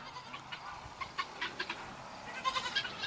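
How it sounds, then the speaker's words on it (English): Goats and other farm animals in a barn give scattered bleats and clucking-like calls, fairly faint and intermittent over soft indoor background noise, with no one talking. "Even some of the goats are in there."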